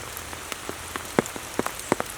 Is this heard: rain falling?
yes